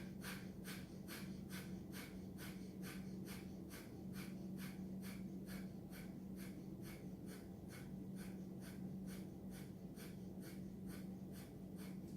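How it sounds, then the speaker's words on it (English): Breath of fire in a Kundalini yoga session: rapid, rhythmic forceful nasal exhales at about two per second, close and steady for the whole stretch over a faint low hum. "And begin breath of fire for 1 minute."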